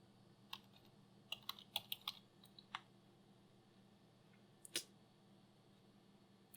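A password is typed on a keyboard while setting up a Retroflag GPi Case, heard as a short, faint cluster of sharp key taps with a pause and a final click or two.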